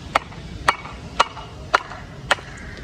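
Two bricks are knocked together five times to test their quality, each strike a sharp, hard clack at an even pace, close and alone.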